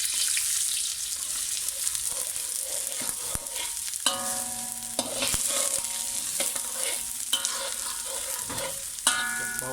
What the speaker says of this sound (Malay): bila dah agak panas, masukkan bawang besar.